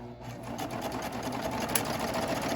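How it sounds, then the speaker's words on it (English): A sewing machine runs steadily and continuously while stitching a pillowcase, a close, even mechanical whir of stitching with no pauses. "Just use your sewing machine and you just stitch the edge and then sew."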